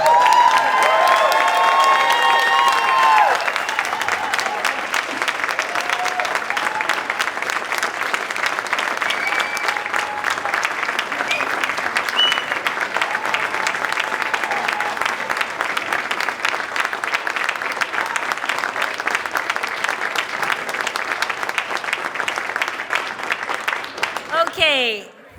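A reception crowd honouring the 1990 state champion track and field team of Beaumont School breaks into loud, sustained applause with cheers and whoops, dense clapping running steadily for over twenty seconds before cutting off abruptly; voices shout over the clapping early on.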